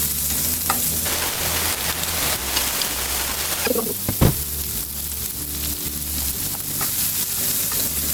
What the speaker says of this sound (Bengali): পুরোপুরি ভাজবো না, একটু নরম হওয়া পর্যন্ত ভাজবো।